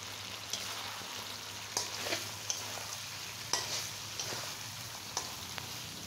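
Chicken curry frying in oil in a pan, a steady close sizzle with occasional sharp pops and stirring scrapes throughout.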